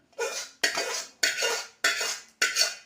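Sugar syrup is worked into a rava mixture with a spoon, making five loud, rhythmic scraping strokes against the pan, each a sharp knock trailing into a rasping drag.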